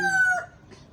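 A rooster crows once, its tone held and then dropping, followed by a faint softer call in a quiet outdoor setting.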